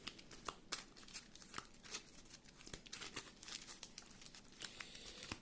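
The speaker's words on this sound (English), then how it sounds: "Okay, let's shuffle these decks now" Card decks for Marvel Champions are shuffled by hand, producing close, quiet bursts of riffling and crinkly snapping in an irregular rhythm, with no voices.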